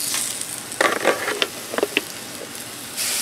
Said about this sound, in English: Okay, now we're going to put our pork chops on.